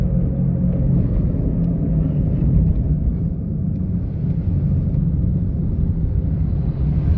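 A Mitsubishi Mirage with automatic transmission drives along a road, giving a steady low engine and road rumble from inside the car with no one speaking.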